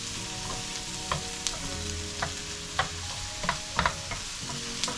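Abalone pieces frying in a hot pan alongside charring onion, a steady broadband sizzle with scattered sharp pops and clinks of stirring throughout, close and continuous.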